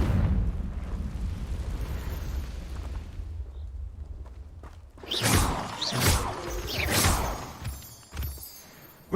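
Spell blasts in the Hogwarts Legacy video game: a series of three or four sharp explosive bursts with whooshing tails, each loud and close, following a stretch of low rumbling ambience.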